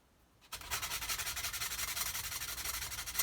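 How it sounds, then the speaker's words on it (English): A sanding stick rubs back and forth across a plastic Nerf Stryfe blaster part, starting abruptly after a quiet moment and continuing as a close, rhythmic scratchy rasp. "Give this a good sand."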